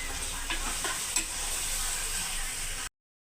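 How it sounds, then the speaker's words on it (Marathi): Mixed vegetables with masala are stirred in a sizzling pan, giving a close, continuous fry hiss with a few soft scrapes and clinks early on before the sound cuts off abruptly. "ते हे पूर्ण सर्व भाज्या ह्या मिक्स करून घ्यायच्या"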